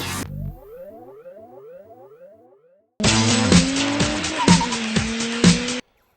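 A 2007 Toyota Hilux pickup is heard twice: first a smooth engine rising through several quick gear shifts, then a loud, dense burst of tires squealing and skidding over the revving motor, close and continuous for about three seconds.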